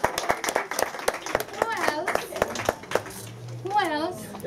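Sharp hand claps ring out close by in an uneven series, mixed with lively children's and adults' voices talking over them.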